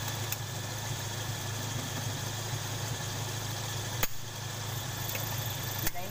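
A Toyota Kijang 5K engine idles steadily after a dead spark plug was replaced, a continuous close mechanical hum with a couple of sharp knocks or clicks.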